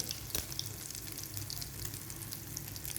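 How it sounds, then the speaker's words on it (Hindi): Cinnamon French toast fries in oil in a frying pan, giving a faint, steady sizzle throughout, with one brief click near the start and no voices. "अब हम इसे फ्राई पैन में डाल देखें"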